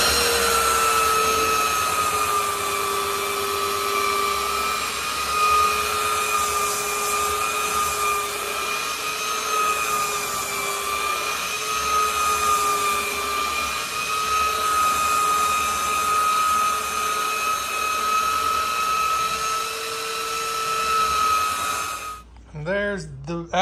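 A belt sander runs continuously over wooden boards for a homemade kegerator ice box, a loud, even whine with a slight wavering pitch that holds for over twenty seconds before cutting off abruptly.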